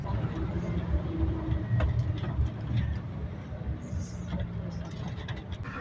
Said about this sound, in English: That little old bus.